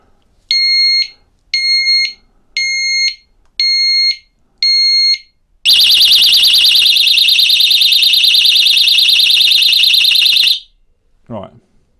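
Oxford Scoot XA5 disc lock alarm on a scooter: five short, evenly spaced high beeps, then a loud continuous piercing siren for about five seconds before cutting off, close to the microphone.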